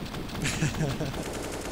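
A short burst of Counter-Strike rifle fire punches through a wall on the Vertigo map during a pro match, quick rapid shots heard under a caster's talk.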